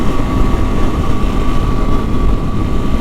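A Honda CRF Rally motorcycle engine hums at a steady high pitch while cruising in sixth gear around 6,000 RPM on a highway, accompanied by constant loud wind roar.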